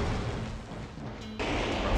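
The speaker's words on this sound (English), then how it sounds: "There's so much exploding right now." Explosions in the video game Metal Wolf Chaos: a dense, rumbling barrage of low booms and crackling blasts, easing briefly before a sharp louder burst near the end.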